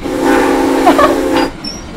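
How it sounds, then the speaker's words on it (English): Steam train whistle blowing one loud, sustained tone up close for about a second and a half, with hissing steam around it and fading into a softer whistle. "I've got a whistle up here to warn people that were coming and are crossing"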